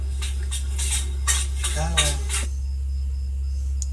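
Rice being mashed and mixed with lentils and ghee for a baby's meal, with soft clinking and scraping of a spoon against a dish in a short cluster of strokes, close by, then quieter.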